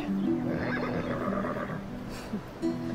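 A horse gives a loud, close whinny with wavering pitch, followed by shorter snorting calls. Faint hoof clip-clop sounds and background sound run underneath.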